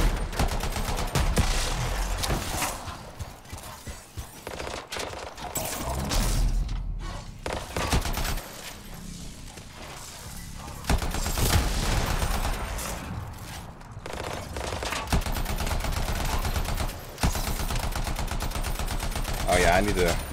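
Enemy hounds firing weapons in the video game Anthem: dense, continuous bursts of gunfire and thuds with booming impacts, loud and sustained throughout, with a player's voice occasionally over the combat.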